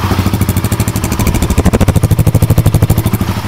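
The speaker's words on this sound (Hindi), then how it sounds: "तो अभी बाइक स्टार्ट है" A 2024 Royal Enfield Guerrilla 450 motorcycle engine idles close by inside a showroom, its rapid, even chugging pulses clear and loud, steadying into a regular beat.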